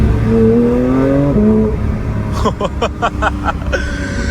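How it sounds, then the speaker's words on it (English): A Porsche GT3 in sport mode accelerates with near-instant gear changes, the engine note climbing then cutting sharply into rapid shift pops and crackles, loud and close from inside the car. "Those shifts are just instant, bro."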